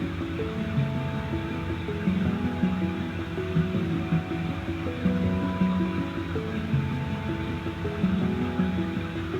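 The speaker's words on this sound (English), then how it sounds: "It's just a patch in Labs under modular pianos called Piano Heaven." Piano Heaven, a modular piano patch in Labs, runs through an arpeggiator, playing a continuous, soft, rippling pattern of repeated notes over a warm, sustained pad.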